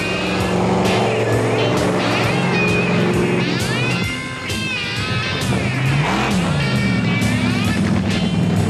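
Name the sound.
monster trucks driving slowly down a drag strip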